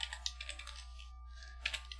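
Fingers type on a computer keyboard in a quiet room, with quick bursts of light clicking keystrokes, a short pause midway, then another flurry of taps.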